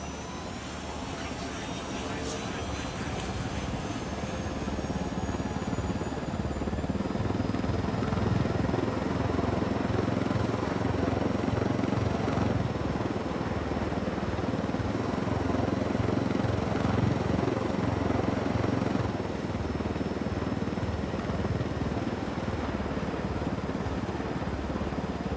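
A helicopter flies in Ghost Recon Wildlands, its engine and rotor making a steady, loud drone that holds unbroken the whole way through. A faint high whine sits above it.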